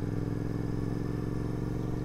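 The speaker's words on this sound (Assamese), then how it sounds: "বাইকখন যিমান স্পীডত দবাইছোঁ মানে সিমান স্পীডত যোৱা নাহে" A motorcycle with slightly low tyre air, struggling to reach speed, runs with a steady, close mid-pitched engine drone and a faint clatter while being ridden.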